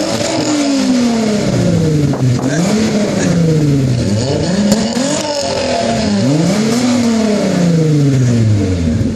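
A 1998 Volkswagen Jetta VR6 revving hard, loud and close, its engine note climbing and falling in repeated sweeping waves, with no talking over it.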